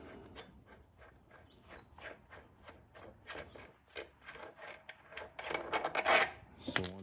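A threaded protective sleeve is unscrewed by hand off the output shaft splines of an NV4500 transmission, making a series of light, evenly spaced ratcheting scrapes of metal threads that grow louder and denser toward the end.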